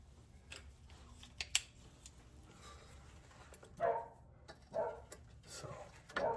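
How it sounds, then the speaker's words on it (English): A neighbor's dog barks outdoors in a few short, sharp bursts over a steady background hum, with metallic clicks early on, in a garage while front air ride suspension work is finished up. "the neighbor's dog is back out. The dog will sit there and bark at his own shadow"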